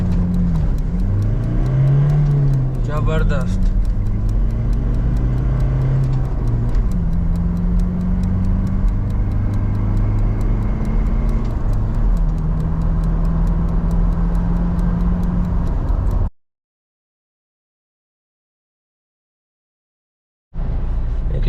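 A 2017 Toyota Fortuner 2.8L turbo diesel 4x4 with manual gearbox accelerates hard from standstill, engine drone rising and falling through several gear changes for about sixteen seconds before cutting to silence, with one brief spoken exclamation.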